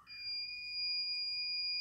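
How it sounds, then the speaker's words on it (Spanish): Electronic refrigerant leak detector switched on for checking an air conditioner, giving a steady, continuous high-pitched electronic tone that holds without break, clear and close over faint background hum. "vamos a coger este detector electrónico de refrigerante, vamos a encenderlo."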